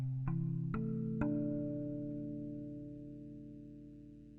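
A steel tongue drum in the African minor pentatonic scale strikes three notes in quick succession, each tine adding to a ringing chord of stacked intervals that sustains and slowly decays, alone and close.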